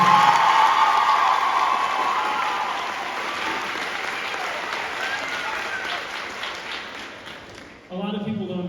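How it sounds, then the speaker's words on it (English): Loud, dense audience applause at a school choir concert, a full roar of clapping with some cheering that slowly fades over several seconds before a voice starts speaking at the end. "give her another round of applause."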